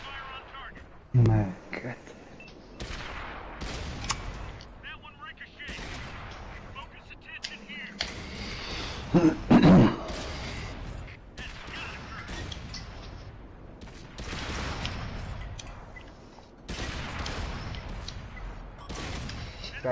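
World of Tanks battle with tank cannon shells striking a Panzer: repeated heavy booming blasts and impacts, some overlapping in rapid succession, loud and close, with someone talking over the gunfire.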